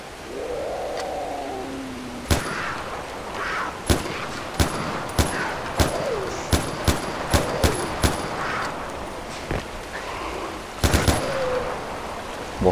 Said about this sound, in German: Macht ganz schön viel Schuss, bis das die Vieh verreckt